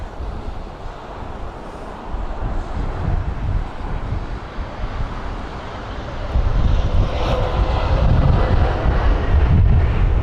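A Boeing 787-10 Dreamliner at windy London Heathrow gives a low, rumbling engine roar with wind buffeting the microphone, growing noticeably louder and heavier midway through as the jet comes closer.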